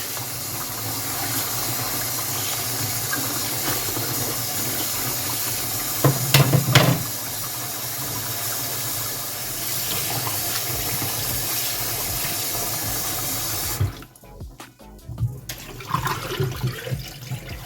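Black beans being rinsed under a running kitchen tap, with a steady loud rush of water and a brief clatter of beans partway through. The flow cuts off near the end, leaving quieter handling noises.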